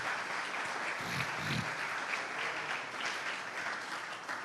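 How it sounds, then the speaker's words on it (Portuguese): A church congregation applauding during a Portuguese-language sermon, soft, continuous clapping heard at a distance, even and unbroken throughout. "Aplauda o Senhor de coração."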